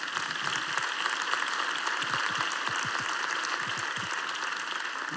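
A church congregation applauding during a sermon, a steady wash of many hands clapping at moderate distance, with no speech.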